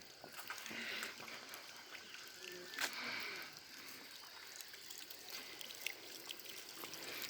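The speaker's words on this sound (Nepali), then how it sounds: "खोलाको पानी अब" Water from a small stream flows with a steady, broad rushing wash, close and continuous, while people talk quietly nearby.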